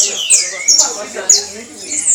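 High, bright chirps from a small curió songbird repeat in short bursts, fairly close, with someone talking quietly in Portuguese underneath.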